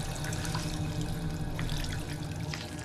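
Water running and splashing steadily from a drinking fountain or tap in Fallout 4, a continuous even stream close by with no voices over it.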